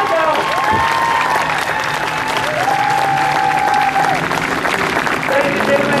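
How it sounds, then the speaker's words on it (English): Loud audience applause and cheering from a crowd at an outdoor buskers festival in Saint John, New Brunswick, steady and sustained throughout, with a few raised voices and whistles over the dense clapping. "everyone here is going to give you a really big clap and cheer"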